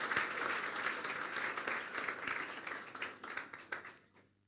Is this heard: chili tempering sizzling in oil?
no